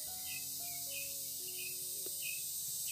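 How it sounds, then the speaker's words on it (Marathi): Crickets chirp steadily at night over farmland, a continuous high shrill trill with faint bird calls underneath and no voices. "रातकिड्यांचा आवाज बघा."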